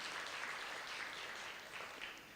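Audience applause at a livestreamed launch event, a steady wash of many hands clapping, heard from a distance and at a fairly low level, sustained without a break.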